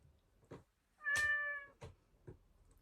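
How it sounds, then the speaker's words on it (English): A toy robotic cat gives one clear electronic meow lasting about half a second, close and fairly loud, between a few soft clicks and taps. "It just says meow every time."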